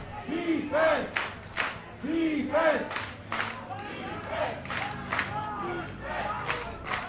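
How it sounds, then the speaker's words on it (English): Crowd at an ultimate frisbee game between the Seattle Rainmakers and San Francisco Dogfish cheering and shouting in rising waves, with bursts of yells and scattered claps throughout. "Crowd getting in this now."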